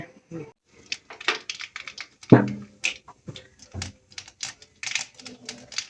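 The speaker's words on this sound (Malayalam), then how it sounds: "ഒരു കടുക് ഇടല്ലേ" Mustard seeds splutter in hot coconut oil in a pan for a Kerala-style chutney, rapid irregular pops and crackles close by, with someone talking over them.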